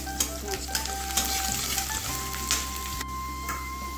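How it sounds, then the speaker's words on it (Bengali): Chopped onion sizzling in mustard oil with steady crackle and spatter, broken by a few soft utensil taps and stirring scrapes against the pan. "পেঁয়াজটা ভাজা হয়ে গেছে"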